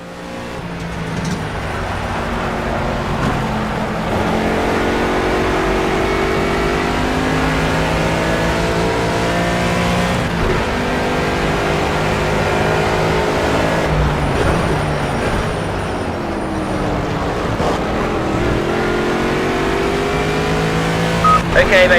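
An Aston Martin V8 Vantage GT4 racing engine in the video game Project CARS at Zolder drones steadily throughout, revving up and down through gear changes with no talking, constant and fairly loud.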